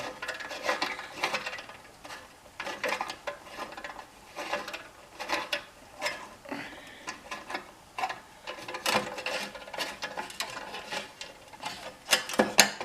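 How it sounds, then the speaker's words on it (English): Small metal clamp fitted onto pontoon boat aluminum during a repair, producing repeated clicks, ratcheting taps and metallic scrapes at close range, with no talk. "So I'll get a little clamp like this and put it into place."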